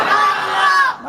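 A large crowd at a Bengali Islamic sermon chants Subhanallah in unison, a loud, sustained roar of massed voices that swells and then drops away abruptly.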